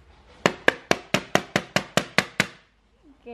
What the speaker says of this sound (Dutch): gaat onze paaschocola met een hamer slaan